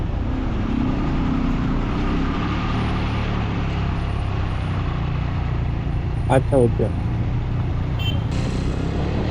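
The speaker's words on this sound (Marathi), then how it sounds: "भाई साहब सिंगल लेन आहे आणि हा ट्रॅफिक आहे" Traffic on a single-lane road from a motorcycle ride: continuous engine rumble and idling vehicles close by, with a short voice and a couple of brief horn-like tones over it.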